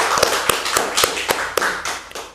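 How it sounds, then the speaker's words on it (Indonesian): A single person's hand claps, sharp and close, in an uneven rhythm of about eight claps at a podcast taping, with a faint voice briefly underneath. "Boleh tepuk tangan lagi dong."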